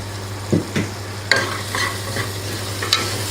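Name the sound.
onion tomato masala with spices frying and stirred in oil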